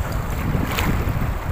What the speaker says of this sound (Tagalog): Maririnig mo lang dito yung alon.